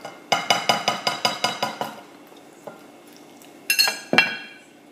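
Batter for zucchini fritters is beaten in a bowl, giving eight quick, evenly spaced clinks of utensil against the bowl, then a pause and two louder clattering knocks, close up with no talk.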